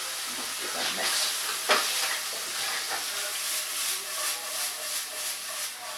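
Potato hash seasoned with salt and pepper sizzles steadily in a frying pan while it is stirred, giving a close, continuous hissing fry with occasional scraping bumps.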